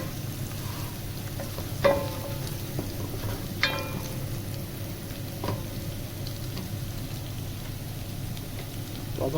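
Garlic and ginger frying in a pan for chicken korma, a steady soft sizzle with faint crackling and a few sharp clinks of a utensil against the pan.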